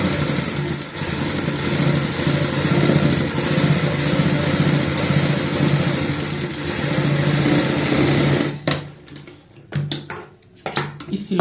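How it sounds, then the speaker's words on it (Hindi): Sewing machine stitching along a kurti neckline, a loud, close, continuous mechanical whir for about eight seconds, then stopping into a few scattered clicks and handling sounds, with no talk. "अब हम इसके ऊपर एक सिलाई लगा लेते हैं।"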